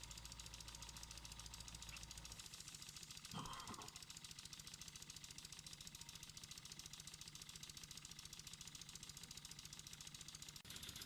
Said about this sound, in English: The next two clips show the engine running on the bench.